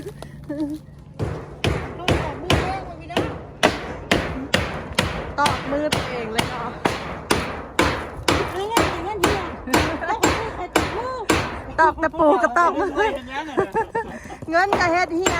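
Repeated hammer blows strike nails in a steady, fairly fast rhythm, close and loud, with people talking over the banging.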